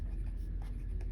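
A marker or pen writes steps onto a board during a maths lesson, giving a brief, steady scratchy stroke that sits close under a low background hum, with no talk.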